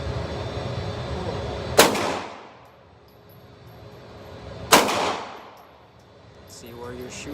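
Two sharp, loud rifle shots from an Israeli bullpup rifle at an outdoor shooting range, about three seconds apart, each with a long decaying echo, then quiet outdoor ambience.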